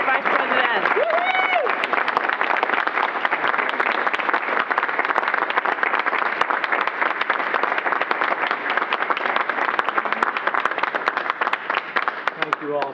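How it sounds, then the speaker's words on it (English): Sustained, dense applause from an audience at NASA's Mission Control in Houston honouring the Vice President, steady and loud for the full stretch without a break. "All right, folks, one more round of applause"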